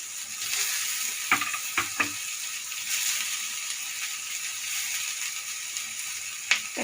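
Onions for paneer gravy fry in a pan with a steady soft sizzle, broken by a few sharp scraping clicks of stirring, with no voices.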